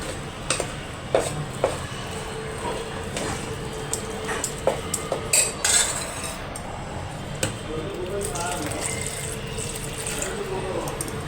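A utensil stirs pitha batter in a pan on an unlit gas stove, making a steady soft scraping with occasional light clinks against the pan, while a person talks over it.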